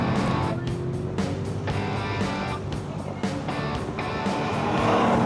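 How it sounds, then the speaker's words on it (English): A Chevrolet Corvette Z06 race car at full speed on a track, its engine roaring loudly and steadily with rising revs and brief dips as gears shift. "And there's Brian taking a Z06 to the max."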